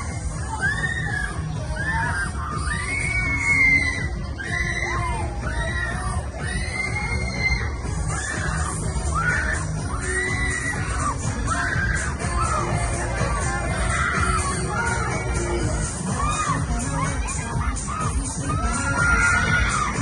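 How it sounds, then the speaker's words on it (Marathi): Riders scream and yell on the Tornado Spin amusement ride during a UK trip to Cardiff, a continuous crowd of shrieks and whoops rising over loud mechanical ride noise for the whole stretch, with no clear talk. "हा टोर्नॅडो स्पिन घेऊन आम्ही आत्ता खाली आलो. हा नेक्स्ट राऊंड आहे."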